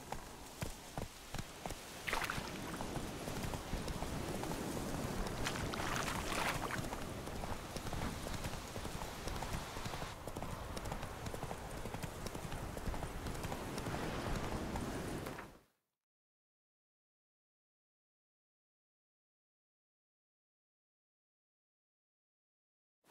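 Roach, the horse in The Witcher 3, clip-clops along at a steady walking rhythm for about fifteen seconds amid a soft patter like rain, then the sound cuts to silence.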